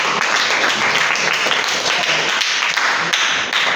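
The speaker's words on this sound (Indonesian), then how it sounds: "Tepuk tangan untuk kelompok ini." A classroom claps for a student group after its presentation of a dual-axis solar tracker project. The applause is loud and crisp and continues for several seconds.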